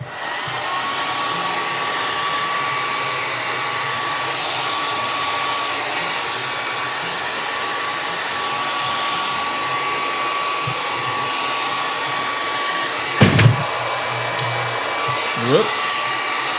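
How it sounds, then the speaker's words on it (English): A blow dryer drying a watercolor painting whirs steadily at close range for the whole stretch, with a couple of brief knocks near the end. "we're going to bring back our blow dryer."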